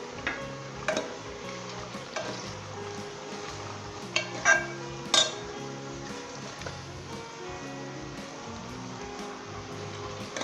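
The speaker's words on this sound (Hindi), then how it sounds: "तो अब हम इसके अंदर इस पॉइंट पे बंद गोभी शामिल कर लेंगे, थोड़ी थोड़ी करके डालेंगे और मिक्स कर लेंगे।" Cabbage being stirred into chicken frying in a pan for a Pakistani-style cabbage chicken curry, with a steady sizzle, soft scraping and a few sharp utensil clinks near the middle.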